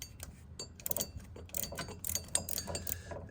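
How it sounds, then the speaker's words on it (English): Ratchet wrench clicking near a car pulley during a Ford SN95 Cobra engine teardown, a short run of close, quick metallic ticks in uneven bursts. "So what I do is I bring a ratchet wrench in from the front"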